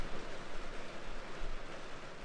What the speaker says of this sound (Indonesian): sekarang lagi hujan guys